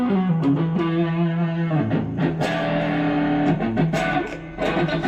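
Distorted electric guitar run through a boost pedal into a small home amp, playing sustained chords and single notes with a gritty, loud, continuous tone and brief pick attacks.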